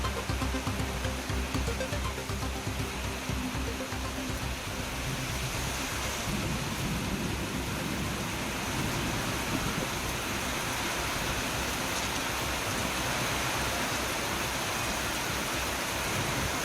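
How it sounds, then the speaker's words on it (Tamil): Heavy rain pours down across Chennai as water runs through the streets, a loud, dense, unbroken hiss that holds steady throughout with no one speaking. "சென்னையில் பல்வேறு பகுதிகளிலும் பரவலாக மழை பெய்து வருகிறது."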